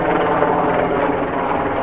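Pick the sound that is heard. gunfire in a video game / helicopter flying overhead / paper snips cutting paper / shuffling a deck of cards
helicopter flying overhead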